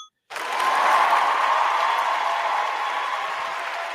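Audience applause bursts in suddenly and holds as a steady, dense wash of clapping from a crowd, fairly loud and even throughout.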